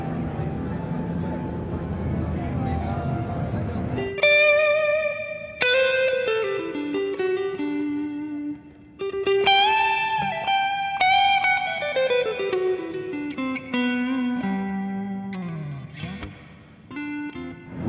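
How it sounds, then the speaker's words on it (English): Electric guitar notes and chords through a Roland amplifier ring out drenched in heavy reverb, each one washing into a long, swimming tail that blurs into the next. "I'm going to turn the reverb up a lot so you can hear it"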